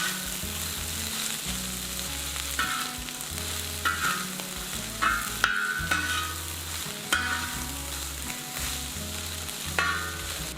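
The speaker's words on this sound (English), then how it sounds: "Then I put on some leftover pork and stirred it around until it was well coated in the" Leftover pork sizzles steadily in bacon fat on a discada, with a continuous frying hiss and occasional scrapes and clinks of stirring over a low rhythmic background.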